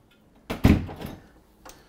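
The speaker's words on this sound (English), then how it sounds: "Shut this door." An oven door swings shut with one solid thump and a short clattering rattle as it settles, followed by a faint click a second later in a quiet kitchen.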